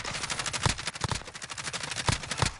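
Rapid bursts of automatic gunfire in the video game Modern Warfare, loud and close, with a few heavier shots standing out.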